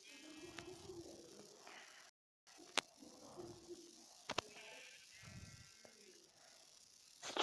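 Sheep bleat repeatedly in a survival island video game over a busy background of game sounds, with sharp clicks and brief gaps, at moderate volume.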